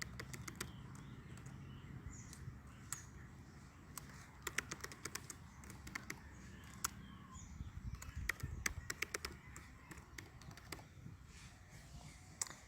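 Keys clatter on a computer keyboard as a password is typed, a quiet run of small irregular clicks over a low background hum, with a few sharper taps standing out.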